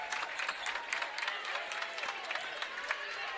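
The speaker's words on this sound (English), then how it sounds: "Routt fans applaud in approval of their team's effort so far." Fans in a gym applaud during a high school boys basketball game between Routt and West Central, a steady crowd clapping with cheering voices and sneaker squeaks, moderately distant.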